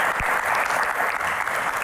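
Studio audience applause for an Indonesian singer at a televised Q&A, a dense, steady burst of clapping that fills the short moment at close range.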